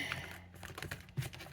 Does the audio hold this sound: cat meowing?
no